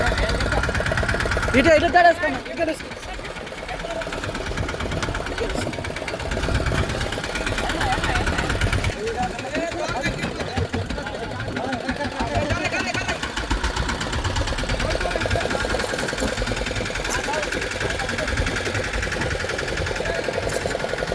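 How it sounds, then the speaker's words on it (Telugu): A fishing boat's engine runs steadily at sea during a trip to catch fish, a loud, rough, knocking drone that fills the whole stretch while a voice talks intermittently over it. "సారీ ఫ్రెండ్స్, ఇంజిన్ సౌండ్ ఎక్కువైపోయింది."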